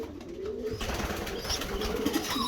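Young pigeons being handled before weaning, giving soft wing flutters and rustling with faint cooing close by, steady and low throughout.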